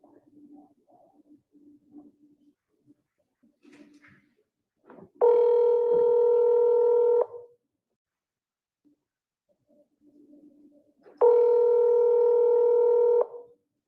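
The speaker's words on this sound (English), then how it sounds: "So here goes the phone call." Ringing tone of an outgoing telephone call: two long, steady buzzing rings about two seconds each, spaced several seconds apart, with faint background murmur between them.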